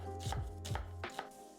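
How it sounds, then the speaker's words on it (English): A knife chops ingredients for slow-cooker beef and cheese taquitos on a board, making a few crisp, evenly spaced strikes up close over steady background music. "Let's get chopping."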